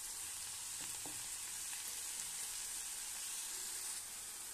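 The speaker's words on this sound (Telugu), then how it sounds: "ఇలా ఎర్రగా పోపులు వేగితే టేస్ట్ చాలా బాగుంటుంది." Tempering spices frying in hot oil until reddish, the base for a Telugu amaranth-leaf fry, giving a steady, even sizzle and hiss throughout with no voices.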